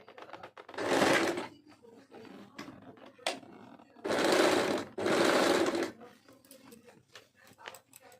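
A sewing machine stitches piping onto a handmade fabric jewelry bag in three loud bursts of rapid whirring separated by quieter pauses with handling noise.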